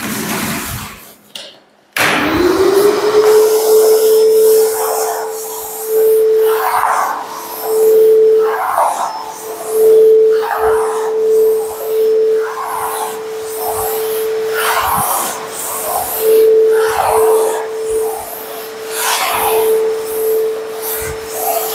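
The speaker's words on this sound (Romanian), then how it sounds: "în aproximativ jumătate de oră am terminat toată suprafața de aspirat" A vacuum cleaner switches on and runs with a steady loud drone while dust is cleaned off the floor of a newly built house, the tone shifting rhythmically as the nozzle scrapes back and forth.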